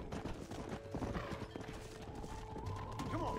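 Horse hooves clip-clopping in the Red Dead Redemption video game on Xbox 360, rapid rhythmic galloping with a whinny, under game music and ambient noise.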